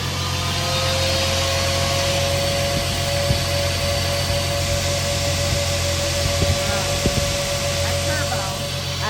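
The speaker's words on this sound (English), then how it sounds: "Look at how freely this turbo spins." Freely spinning turbo on an 800 hp RB25DET engine gives a steady, loud, high-pitched whine that holds one tone over a constant mechanical hum, with a few faint clicks.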